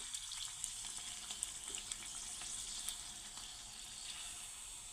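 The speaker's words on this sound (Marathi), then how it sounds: "खालची बाजू आपल्याला अशाच प्रकारे तळून घ्यायची आहे" Puris frying in hot oil, a steady close sizzle with faint crackles and no voices over it.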